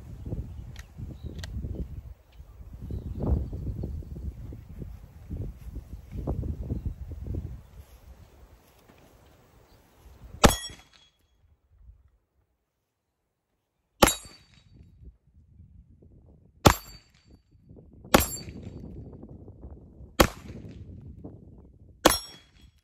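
A Smith & Wesson M&P M2.0 9mm pistol with a 5-inch barrel fires at a steel plate rack on a range: six sharp, loud shots spaced a few seconds apart, each with a ringing clang, after a stretch of low rumbling.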